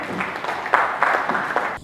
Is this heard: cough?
no